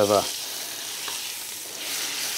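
Pieces of onion sizzle in butter alongside a piece of beef in a pan, a steady bright crackle after a short tonal sound at the start, close and fairly loud, with no talking.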